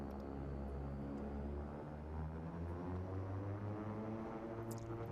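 A simulated Beechcraft King Air 350 twin turboprop at takeoff power in X-Plane 12, a steady loud propeller drone with sustained tonal harmonics and no talking.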